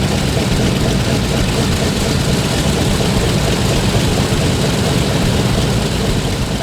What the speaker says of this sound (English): I'm currently flying the F7F Tigercat for LewisAir Legends.